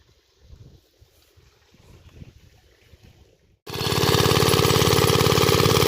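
Quiet outdoor rustling and low rumbles on a farm, then a loud irrigation pump suddenly starts and runs with a steady, droning engine roar.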